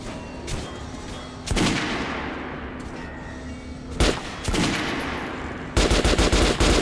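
Guns fire at a shooting range in Metro Last Light: several loud single shots and short bursts ring out with echoing tails. A fast automatic burst closes the sequence.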